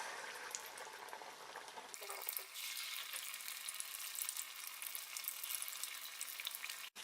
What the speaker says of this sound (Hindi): तो इसी तरीके से हम सारे पकौड़े गरम तेल में डाल लेंगे।